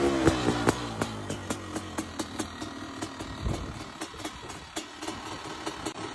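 A Honda 500 CR motocross motorcycle's two-stroke engine revs up near and loud, then settles into a steady, lumpy run with regular sharp pops and crackles, alone with no voices.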